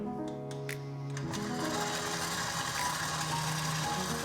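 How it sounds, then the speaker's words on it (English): Stand mixer beating egg whites for meringue on a slow start with no sugar yet, a steady motor whine with a faint mechanical hum that rises slightly in intensity after the first second, continuous and close. "we're going to pop this into our stand mixer"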